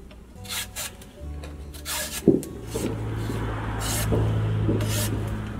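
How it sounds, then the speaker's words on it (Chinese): Lotus root being peeled by hand in a home kitchen, a rasping scrape that repeats in short strokes, close and fairly quiet, with one sharp knock partway through and a low steady hum beneath. "先把莲菜皮儿削"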